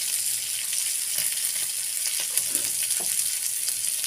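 Fish frying in a pan, a steady close hiss of sizzling oil with faint crackles and light scraping underneath, no voices.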